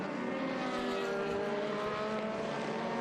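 Open-wheel formula race cars in an SVRA vintage race at Laguna Seca pass by with a loud, continuous engine howl, holding steady and close for about three seconds with no voices.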